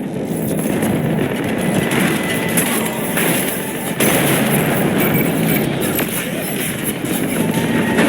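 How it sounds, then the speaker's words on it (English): Heavy cannon fire in the Mass Effect 3 video game during a battle on Omega, a dense continuous roar of booming blasts with sharp bursts, loud and sustained throughout. "Cannons engaged."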